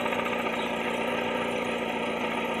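Close-up idle of a CHT motorcycle engine, its loose clutch support clattering in a rapid, even metallic rattle over a constant mechanical hum, with no speech.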